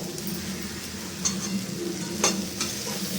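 Spices sizzle steadily in a hot pan while being stir-fried for a potato, cauliflower and prawn curry, with a low continuous fry and a few light clinks and scrapes of a utensil against the pan.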